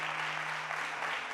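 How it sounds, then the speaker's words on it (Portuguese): Worshippers at an evangelical prayer service applaud in unison, a continuous, fairly close crackle of clapping over a low electrical hum, with no one speaking. "aplauda o nome do Senhor Jesus por essa palavra"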